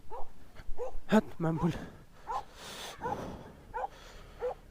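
A dog startles riders on a road trip to Bharatpur and gives a series of short, close yips and barks. People talk over and between the barks.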